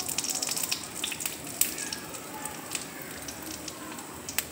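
Bay leaves and whole cumin seeds sizzling in hot oil in a wok, a faint steady crackle and hiss with scattered small pops throughout.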